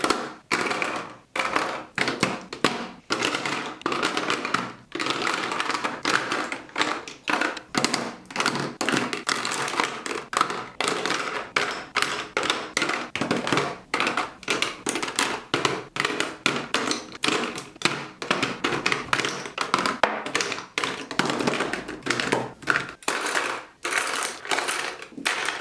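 Makeup items are put back into a drawer, producing a long run of quick plastic taps, clicks and rattles in irregular bursts, fairly close and steady, with no talking.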